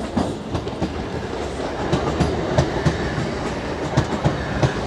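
Another train rolls into a railway station nearby, its wheels knocking in a steady clickety-clack rhythm over a loud continuous rumble.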